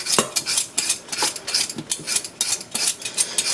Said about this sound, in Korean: 감자는 흙을 물에 한번 씻어준 다음에 필러로 이렇게 깎아주세요